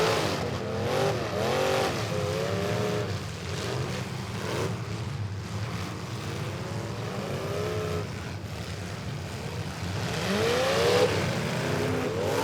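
Demolition derby wagon at a youth derby event tries to refire, its engine revving in repeated rising surges over crowd and arena noise, loud and rough with a strong final rev.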